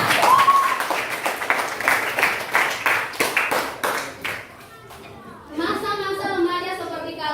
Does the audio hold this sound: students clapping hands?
yes